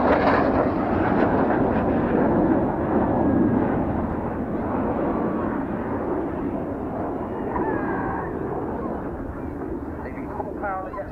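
Red Arrows jets flying opposition barrel rolls at the RAF Cosford 2016 airshow, a loud continuous broadband jet roar that slowly fades slightly over the clip, with crowd and commentary murmur underneath.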